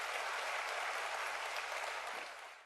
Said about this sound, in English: Please give a warm round of applause for H. Wayne Huizenga.